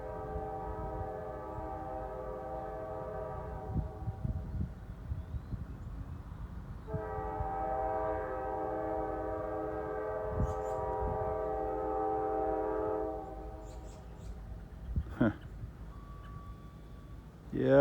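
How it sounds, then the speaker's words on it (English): A freight train's horn blows two long sustained blasts from far down the line, with wind and handling noise around it and a faint click near the end, no crossing nearby. "The train's blowing for those kids."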